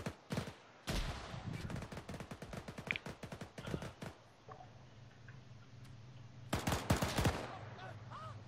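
Machine gun fire in a World War II battle in the game Arma 3, rapid close bursts of sharp shots in two clusters separated by a quieter stretch with a low engine-like drone beneath.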